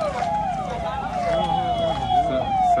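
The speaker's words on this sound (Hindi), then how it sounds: "सबकी गाड़ियों में सायरन है भाई।" Sirens from several vehicles wail at a political road blockade (chakka jam) in Singrauli, a steady falling-and-rising tone repeating about every half second, fairly loud and close, with crowd noise and voices talking underneath.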